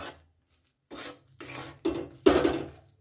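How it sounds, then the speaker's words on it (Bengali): Rice flour is stirred into hot water in a pot over a high flame, four rasping scrapes of a spoon against the pot, each one louder than the last, with short silent gaps between them. "চালের গুঁড়োটা দেওয়ার পর গ্যাসের ফ্লেমটাকে আমি হাইতে রেখেই চালের গুঁড়োটা একটু ভালো করে নেড়ে নিচ্ছি"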